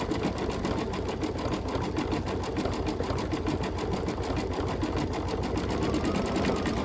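A machine embroidery unit stitches a Halloween quilt block design, its needle hammering in a fast, even mechanical rhythm that runs loud and unbroken throughout, with no voices.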